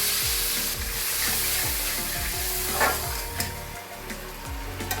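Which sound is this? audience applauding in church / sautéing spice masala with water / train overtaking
sautéing spice masala with water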